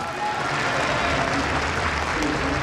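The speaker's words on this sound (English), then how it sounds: "Big round of applause for YoDa." Sustained applause fills a large audience hall at an esports event, the StarCraft II match at IEM Katowice, a dense, even clapping wash with faint crowd murmur and a voice under it.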